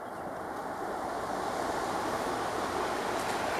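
A riverside campsite carries a steady broadband wash of flowing river water, continuous and fairly loud, with no talking.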